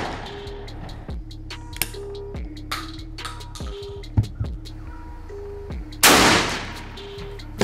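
A 12-gauge shotgun, fired from the top barrel only, shoots 32-gram sport cartridges with No. 7 shot at a fire extinguisher. One loud, close blast comes near the end after a run of sharp clicks over a steady hum.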